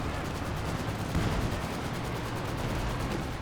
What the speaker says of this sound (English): Another Katusha barrage up here.